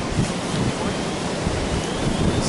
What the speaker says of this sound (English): That wind really just catches under the prop.